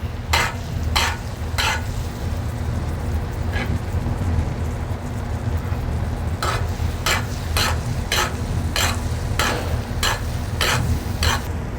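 Steady sizzling of flounder frying in butter in a pan, with a constant low hum and a series of sharp scraping or tapping clicks spaced through the clip.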